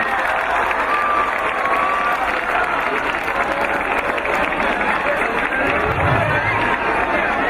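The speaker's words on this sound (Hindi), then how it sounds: "आप लोगों से अनुरोध है कि जोरदार तालियों से आप स्वागत करें, अपनी उपस्थिति का एहसास कराएं।" A large crowd claps loudly and continuously to welcome a guest at a motivational satsang held at a school in Udaipur, a steady, dense roar of applause throughout.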